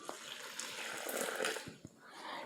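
Very warm water, about 125 degrees Fahrenheit, poured into a bowl for artisanal bread dough, a close continuous splashing stream with a short break near the end.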